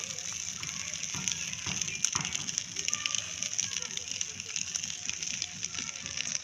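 Prawn and poppy-seed paste wrapped in banana leaves fries gently in oil, giving a constant soft hiss and crackle with scattered faint pops, fairly quiet and close, with no speech.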